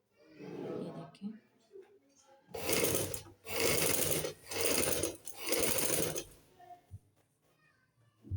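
Sewing machine stitching a half-inch strip (patti) onto a women's suit, in four loud, steady whirring runs separated by short pauses, with quiet rustling and handling before and after.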